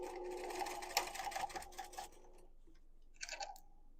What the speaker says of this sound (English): So we're going to top stitch at 1/8 inch away from the seam allowance.